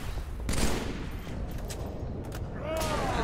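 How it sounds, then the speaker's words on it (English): Plasma rifles fire in Halo 3 as rapid, overlapping shots over about three seconds, fairly loud and dense like a fusillade, with some talk faintly mixed in. "His plasma rifles will strip the armor off them very fast."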